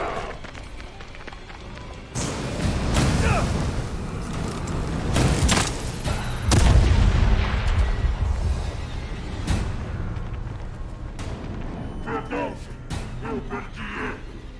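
Gunshots fired at an enemy in the horror game The Evil Within 2, heavy bursts scattered across the stretch with thuds and rumbling effects, with someone talking over the action.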